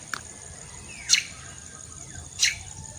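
Racing pigeons return to the loft during an arrival training session in Candelaria, Quezon, with two short, sharp bird calls standing out from quiet outdoor background.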